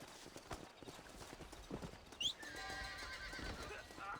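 A horse in Red Dead Redemption gallops with irregular thudding hoofbeats, then lets out a loud, shrill whinny midway before the hooves carry on beneath a lingering rumble.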